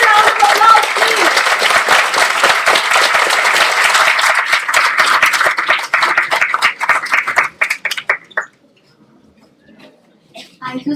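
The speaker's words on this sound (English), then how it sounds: "Louder round of applause, please." A festival inauguration audience gives a loud, dense round of applause that thins into scattered claps and dies out near the end.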